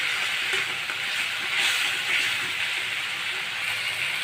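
Onions fry in a pan as dried lailla fish are added for a home-style shutki bhuna, giving a steady, loud sizzle with faint stirring scrapes and no talking.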